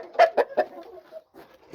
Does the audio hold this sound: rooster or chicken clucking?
yes